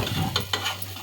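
Sabudana (tapioca pearls) being stir-fried in a pan, a steady close sizzle broken by a few sharp scraping strokes of a spoon against the pan.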